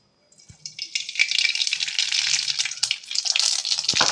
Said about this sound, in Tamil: எண்ணெய் காஞ்சிடுச்சு. ஒரு ஸ்பூன் கடுகு போடுறேன்.